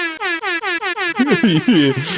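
Close, loud air horn blasts in a rapid rhythmic string of about seven toots, then a wavering, warbling horn flourish.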